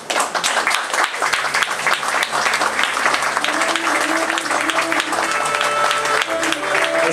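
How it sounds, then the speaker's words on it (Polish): Sustained applause from an audience at a cornerstone-laying ceremony, dense steady clapping filling the whole stretch, with some crowd voices mixed in. "a państwo biją brawo"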